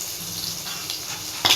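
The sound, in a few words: crushed garlic sizzling in tempering oil with cumin and mustard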